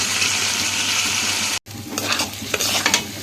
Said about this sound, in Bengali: তার মধ্যে চিকেনটা দিয়ে লবণ হলুদ দিয়ে ভালো করে কষা